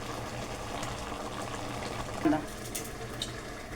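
Water pouring off partly cooked biryani rice as it is drained, a steady watery gush and splash with a brief louder burst midway.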